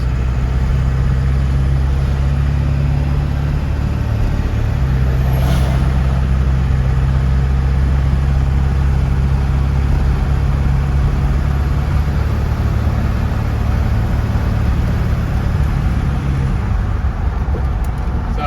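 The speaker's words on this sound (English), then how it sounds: "try to hear it shifting through the gears" A Ford Excursion with a 7.3 diesel and a newly installed built 4R100 transmission on a test drive, a steady loud engine and road drone inside the cab with subtle changes in tone as it shifts.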